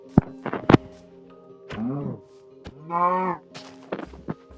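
A cow moos in the video game Minecraft, giving two drawn-out, fairly loud lowing calls between thuds and clicks of gameplay.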